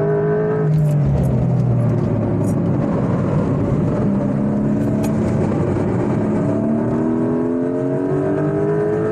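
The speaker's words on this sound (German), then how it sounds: "Das wird jetzt Vollgas sein. Da sieht man, wie der Turbo wegzieht." A turbocharged GTS car accelerates at full throttle on the Nordschleife, its engine droning loud and steady from inside with rising tones as it pulls through the gears.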